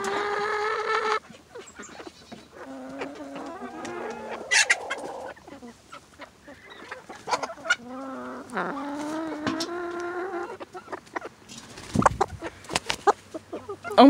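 Chickens and a turkey cluck close by in a farmyard, with repeated short clucks, drawn-out squawks and bursts of scuffling and handling noise.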